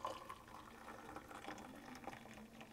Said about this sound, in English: pour that coffee out